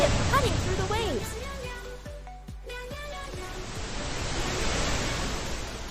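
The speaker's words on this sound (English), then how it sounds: "they heard the sound of a ship cutting through the waves" Rushing, surging water as a ship cuts through ocean waves, a broad steady wash swelling toward the end, with tonal music-like sounds layered over it.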